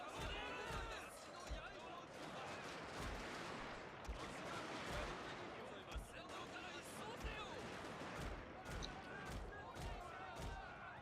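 Riflemen in Total War: Shogun 2 fire their muskets in a dense battle, the shots cracking irregularly over a constant roar of combat while someone talks throughout.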